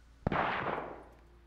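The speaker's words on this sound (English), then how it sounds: "Shots right, southeast." A single sharp gunshot in the game Cuisine Royale, a loud crack followed by a long rolling echo that fades over a second or so, heard alone.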